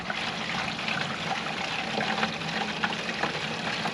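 Liquid rabbit-manure compost tea is poured slowly into a bucket, giving a continuous close trickling and splashing with small gurgles and no speech.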